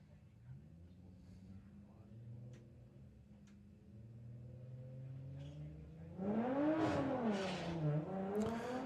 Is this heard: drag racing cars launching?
yes